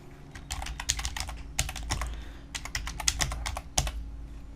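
Rapid typing on a computer keyboard, bursts of quick light clicks with brief pauses, close and fairly quiet over a low steady hum.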